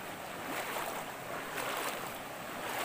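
A strong river current rushes through a channel in the mountains near a waterfall, a steady broadband roar of flowing water with wind-like hiss, moderately loud and continuous.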